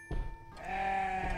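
A single sheep bleats clearly and fairly close, a wavering nasal call lasting about a second, with a brief rustle before it.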